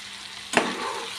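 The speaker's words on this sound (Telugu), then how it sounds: "ఇదంతా కూడా ఆయిల్లో కలిసేలాగా ఇలా చక్కగా కలుపుకున్నామండి" Chopped ivy gourd (dondakaya) hits hot oil in a pan with a sudden scrape of stirring, then a steady, close sizzle carries on alone.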